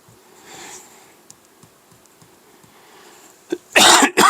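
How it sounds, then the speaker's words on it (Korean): A teacher coughs hard twice near the end of a quiet lecture stretch, loud bursts close to the microphone after faint background noise. "쌤이 기침을 좀 나서"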